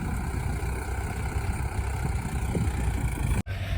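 A Mahindra tractor engine idles steadily nearby, a constant low rumble with broadband mechanical noise that cuts off abruptly for a split second near the end before resuming.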